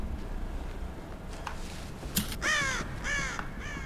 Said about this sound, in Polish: Ja tu wszystkie ptaki możliwe wypłoszę, nie?